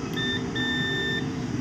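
Two steady electronic beeps from a multimeter continuity test on a laptop board sound close by, a short one followed by a longer one, over a low background hum.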